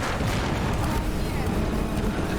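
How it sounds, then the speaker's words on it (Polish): A ship explodes in Uncharted: Drake's Fortune, a dense, continuous roaring rumble of blasts that stays loud and unbroken throughout. "statek wybucha"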